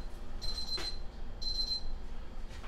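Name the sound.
kitchen timer alarm ringing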